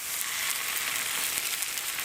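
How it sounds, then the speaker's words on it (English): Steady, close sizzling of chicken and pork on a hot barbecue grill, a continuous crackling hiss with no talking. "And stick them on and listen to them sizzle, Mazzy."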